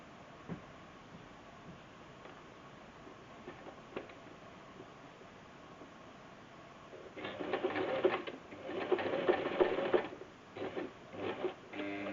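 A sewing machine stitching fabric for a girl's dress runs in a few short bursts of rapid mechanical whirring after a quiet start, close by with brief stops between the runs.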